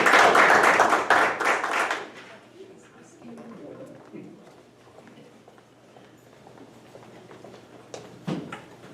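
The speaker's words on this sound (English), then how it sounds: "Let's have one more round of applause for all of our graduates." An audience at a school board meeting applauds graduates, a loud burst of clapping for about two seconds that fades into room murmur and scattered noises.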